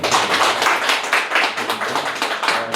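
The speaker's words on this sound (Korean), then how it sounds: "박수 한 번만 부탁드립니다." An audience at a formal event claps in a short, lively burst of applause, individual hand claps audible close by throughout.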